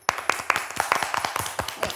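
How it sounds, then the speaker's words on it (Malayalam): A small group claps for a little girl on a children's TV show after she recites a Bible verse, giving a short run of loose, unsynchronised claps at a moderate distance. "ക്ലാപ്പ് കൊടുത്തേ"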